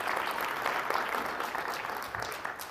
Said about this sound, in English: They helped put this on, so give them a round of applause if you would.